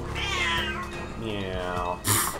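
A pet cat gives several short, squeaky meows close by, with a person speaking quietly in the room around the calls.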